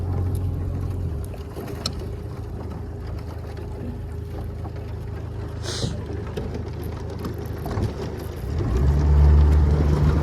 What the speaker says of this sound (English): So I'm going to back up with the big motor.